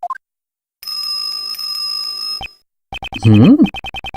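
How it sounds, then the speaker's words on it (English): Bright chiming tones from a bell on a dog's collar in the video game Ace Attorney Investigations 2: Prosecutor's Path ring out in bursts, a sustained shimmering ring followed by a quick series of short jingling dings, loud and close. "This dog, it has a bell on its collar."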